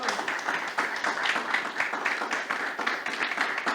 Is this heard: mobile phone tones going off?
no